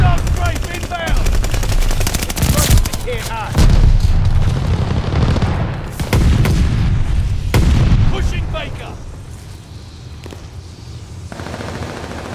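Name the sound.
enemy aircraft strafing gunfire in video game Call of Duty Vanguard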